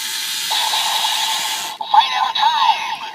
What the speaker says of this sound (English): And again, the gear is very obnoxious.